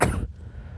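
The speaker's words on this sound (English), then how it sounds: "so I may cough here and there" A single short cough from someone who is a little sick, close and fairly quiet, followed by faint room tone.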